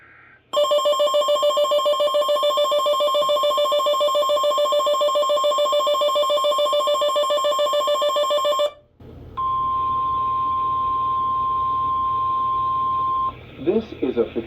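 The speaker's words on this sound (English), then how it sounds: "We got the tornado warning alert here." Dreamsky DS6227 weather radio sounding its tornado warning alert: a loud, harsh buzzing tone held for about eight seconds, a short gap, then a steady single-pitch alert tone, with a voice starting at the end.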